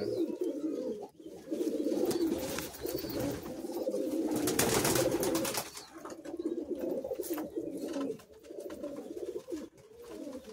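Andhra pigeons cooing in soft repeated throaty phrases close by, with bursts of wing flapping as birds take off, continuing throughout without speech.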